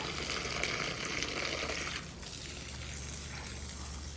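Water spraying from a hose onto a car during a wash at an airport in Saudi Arabia, a steady broadband hiss that holds for about two seconds, then eases to a slightly softer continuous spray.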